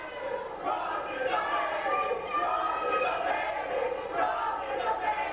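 A wrestling crowd at an NWA Wildside anniversary show roars and jeers against Jason Cross during his match with AJ Styles, a sustained, moderately loud mass of chanting and booing voices that swells and ebbs throughout.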